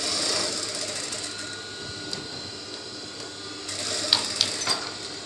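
A sewing machine runs a steady top stitch along a trouser waistband, holding the buckram in place. The whirring hum is close and continuous, with a few sharp clicks near the end and no talking.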